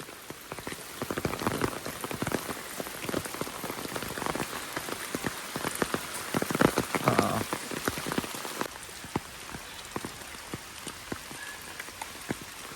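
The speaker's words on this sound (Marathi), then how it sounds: "हे बघा, एवढी एक सर येते आणि पाऊस आपला जोर कमी करतो." Monsoon rain in Konkan patters and splashes on a surface in uneven bursts, heavier at first and easing toward the end, with no talking.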